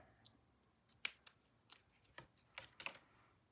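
Scissors snipping paper while a 10 by 9 inch winter scrapbook mini album page is built, a quiet, close series of short crisp cuts in irregular bursts with gaps between them.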